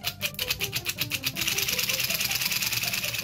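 A homemade toothbrush driven by a relay-timed actuator on a 12-volt battery: a fast, rattling mechanical buzz, pulsing rhythmically at first and then settling into a steadier, denser whir, close by.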